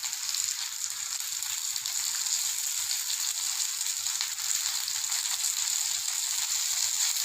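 Eggplant (brinjal) slices fry in hot oil in a pan for Tamil-style katharikai fry, giving a steady, dense sizzle that continues evenly throughout with no talk over it.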